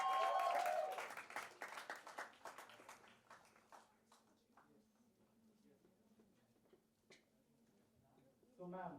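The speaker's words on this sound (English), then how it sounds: "Nice, big round of applause" Students applauding at a promotional event for a song, a burst of clapping loud at first that thins out and fades into scattered claps, with a voice over the start.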